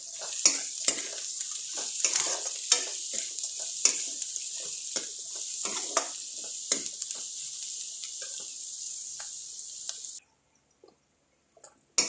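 Onions frying and being stirred in a pan for an upma premix give off a steady, close sizzle with scraping stir strokes, then cut off abruptly near the end.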